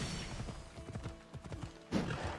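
Horse hooves clip-clop at a steady trot in Assassin's Creed Odyssey, a rapid run of close hoof beats with a heavier thump near the end.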